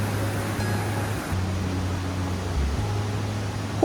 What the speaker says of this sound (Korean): 하얗게 부서지는 물보라와 함께 힘차게 떨어지는 폭포는 거센 소리를 내며 상간마을의 고요함을 단숨에 깨뜨립니다.